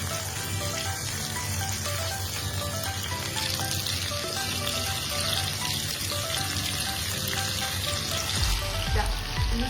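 Chicken pieces for a curry sizzle and fry in a pan just after being flipped, giving a steady, close crackle of hot oil with a soft clunk near the end.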